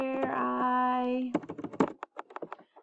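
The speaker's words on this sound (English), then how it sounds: "You click on the text tool, and then you can start your typing." Keystrokes on a computer keyboard entering text, a run of quick, uneven clicks and taps following a sustained tonal hum, close and moderately loud with no talking.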